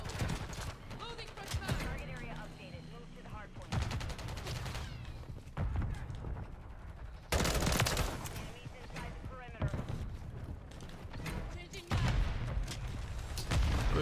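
Rapid bursts of automatic gunfire from a full-auto M16 in Modern Warfare 3, repeated volleys across a smoke-covered multiplayer map, loud and dense with someone talking over parts of it.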